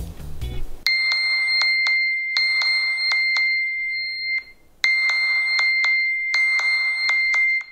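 A smartphone rings out a bright, electronic bell-like alert, set off by the find-phone feature of a Xiaomi Mi Band 3. Loud, close repeated beeping tones come in rhythmic bursts with a short gap midway, and no one speaks.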